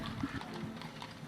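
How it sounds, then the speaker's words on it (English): Quick clip-clop of horse hooves passing, faint and somewhat muffled, with a rhythmic clatter over a low rumbling background. "What you're hearing is a horse passing by"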